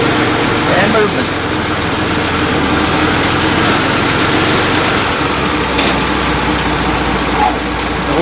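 A vehicle engine idles at an air force base museum with a steady, loud rumble that fills the whole clip, with people talking over it.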